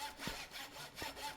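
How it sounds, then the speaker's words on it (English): Shuriken thrown against basalt blocks in Minecraft give a rasping, saw-like scrape, with two short strokes in quick succession at moderate volume and no talking. "at the sound it makes when you throw it against the basalt here. Isn't that weird? It's like a sawing sound."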